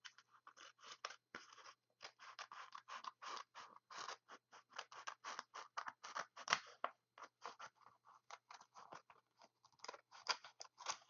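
Scissors trim the edge of a paper file folder, making a long run of close, crisp snips in a quick irregular rhythm with brief pauses and no talking.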